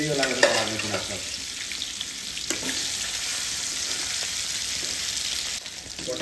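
Kala banshi fish frying in hot oil, a steady dense sizzle and crackle that fills the whole stretch, with a few stirring clinks near the start and no talk.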